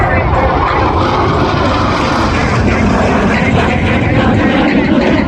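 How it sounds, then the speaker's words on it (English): Blue Angels 5 and 6 jets roar past the flight line at an air show at Spirit of St. Louis Airport, a loud, steady, broad engine rush filling the whole stretch, with an announcer talking over it. "Blue Angels 5 and 6 are approaching the flight line at 400 miles per hour"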